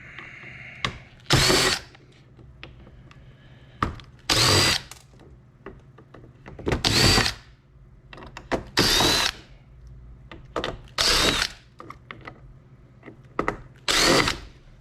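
A power drill unscrews screws from a computer hard drive, whirring in short bursts of a second or so with pauses and small clicks between, close and loud.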